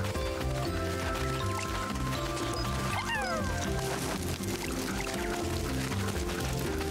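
Continuous water flows and pours in the video game Pikmin 4, a steady wash layered over game music with a brief sliding tone partway through.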